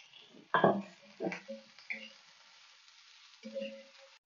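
A tomato roasts with a little oil on a griddle, giving a faint, steady sizzle with a few sharp clinks and soft, voice-like murmurs.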